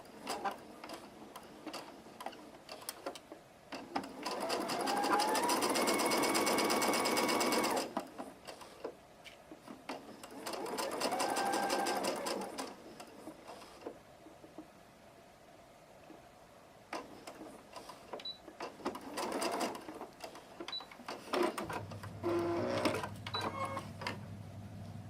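Sewing machine stitching in reverse, with bursts of rapid mechanical stitching separated by quiet pauses and lighter clicks, close and fairly faint.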